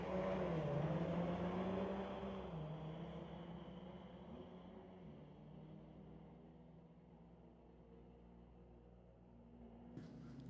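A Mitsubishi Evo and a Lancer drag race at Mission Raceway, engines droning loud at first and then fading into the distance as the cars pull away, ending in quieter track ambience.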